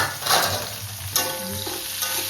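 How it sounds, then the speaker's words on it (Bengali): Rice is frying and being stirred in a pan, making a steady moderate sizzle with scraping stir strokes near the start and again just past the middle, and no talking. "দেখেন আমাদের চাউল ভাজা হচ্ছে"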